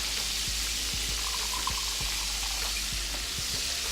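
Hennessy glaze boils in a small pot on the stove, a steady hiss and simmer with soft, irregular bubble pops running throughout, close and fairly loud, with no voices.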